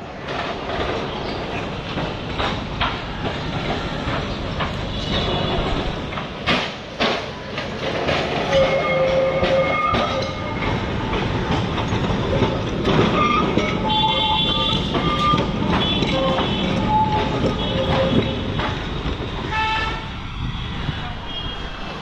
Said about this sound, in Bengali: এই দেখুন আসছে স্প্ল্যানেড থেকে গড়িয়াহাটের ট্রাম।